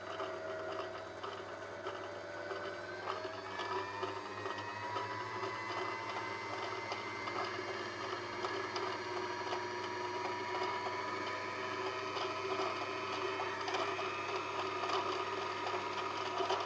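A domestic sewing machine winding a bobbin, a steady whirring motor drone with a faint rhythmic mechanical rattle, rising slightly in pitch early on and holding even throughout.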